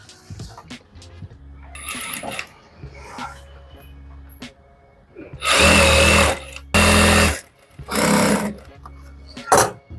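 Sewing machine stitching an Anarkali dress in a home tailoring setup, running in several loud bursts of a few seconds each, separated by quieter stretches with handling noise and some talk.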